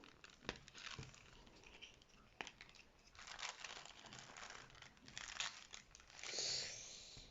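Crinkly plastic packaging of a French Kits pack being opened delicately: close, quiet crumpling and tearing rustles in irregular bursts, with no talk.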